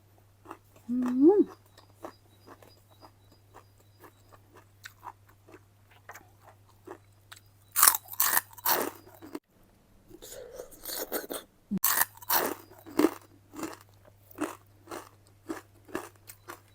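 Loud, crisp crunching bites and chewing, close up, in irregular bursts with short pauses between mouthfuls.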